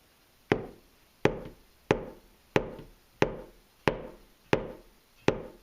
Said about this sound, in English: The big noise comes from the bass drum trigger.